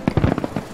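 Fireworks going off in the Stray Souls horror video game, a quick cluster of five or six crackling bursts in rapid succession, moderately loud and slightly muffled, with no voices over them.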